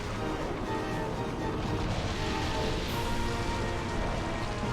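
Steady, dense rain from the Rain Dance move in the Pokémon Colosseum video game, a continuous even hiss of falling water at a constant level throughout, with no talk over it.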